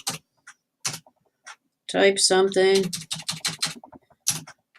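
Quick, uneven key taps on a computer keyboard, clicking in short clusters at close range, with a voice talking over part of the typing.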